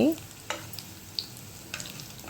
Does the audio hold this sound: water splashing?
no